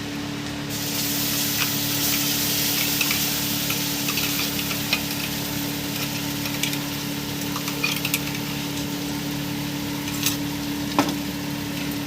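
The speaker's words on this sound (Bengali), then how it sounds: "দিয়ে আমি ভালো করে নাড়িয়ে নেবো এটাকে।" Spiced paste with capsicum, tomato and garlic being stirred in a hot pan for peri peri paneer, a steady close sizzle and spray-like hiss with scattered small ticks and scrapes throughout.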